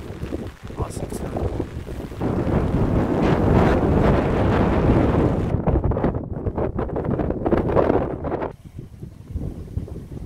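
Strong wind gusts buffet the microphone on a mountain summit along the Scottish National Trail, a loud roaring rush that surges and drops without letup for about eight seconds before easing.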